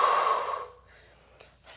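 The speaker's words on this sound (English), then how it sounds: "Inhaling and exhaling, tightening abdominal wall for 5" Breathing in and out during a Pilates plank, a loud, close, airy exhale that tapers off, then a pause and the soft start of another breath.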